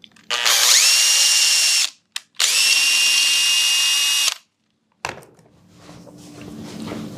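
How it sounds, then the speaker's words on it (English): A power drill whirs loudly drilling a small hole in wood in two long bursts with a brief pause between, spinning up and stopping, followed by faint clatter and rustling. "drill a small hole"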